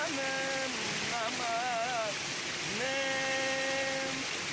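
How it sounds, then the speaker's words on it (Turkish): A mountain stream on a snowy mountain rushes with a constant, full hiss of flowing water, while a nearby voice sings and talks over it. "Şırıl şırıl. Akıyor bu dereler coşuyor."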